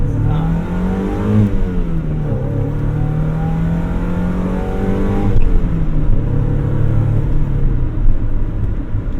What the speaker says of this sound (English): this thing is just so fun to ring out, even though it's not fast.